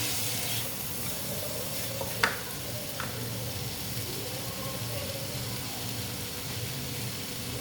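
Masala for matar paneer with green peas sizzling in a pan while it is stirred, a steady low fry with a sharp scrape or clink of the spatula near the middle.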